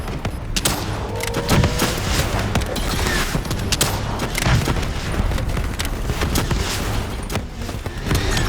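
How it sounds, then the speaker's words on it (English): Javelin missiles exploding in the video game Call of Duty Black Ops 3: dense rolling blasts, booms and crackling gunfire in a loud, continuous barrage with no letup. "Javelin missiles incoming!"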